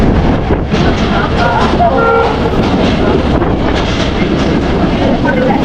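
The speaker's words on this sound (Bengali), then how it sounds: "চাপাই থেকে রাজশাহী যাওয়ার লোকাল ট্রেন" Steady loud rumbling and rattling of a local passenger train running from Chapai to Rajshahi, Bangladesh, continuous throughout with a windy, roaring wash over it.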